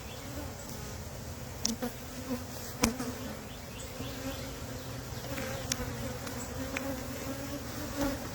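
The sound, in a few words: swarm of honey bees buzzing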